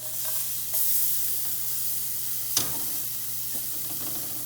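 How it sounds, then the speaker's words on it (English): Chopped garlic sizzles in a hot pan set on high heat for a broccoli beef stir fry, making a steady frying hiss with a faint clatter or two and one sharp tap midway. "Now I'm gonna put in my garlic."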